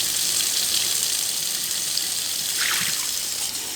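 Hot water runs steadily from a tap during a pressure washer hot-water test, a continuous close hiss and trickle with no speech.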